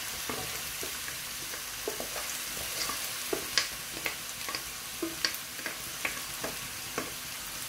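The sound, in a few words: mallow (khobiza) frying in olive oil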